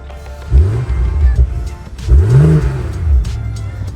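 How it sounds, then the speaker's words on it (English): A BMW X3 M40i with a B58 engine and stock exhaust revs twice, each rise climbing in pitch then falling, with a deep rumble idling between. "you can hear the exhaust pretty well"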